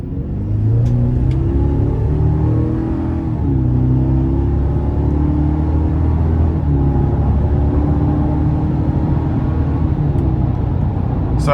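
A 2025 GMC Sierra 1500 Pro Turbomax pickup truck accelerates hard, its engine droning loudly from inside the cab as the pitch climbs through several gear shifts.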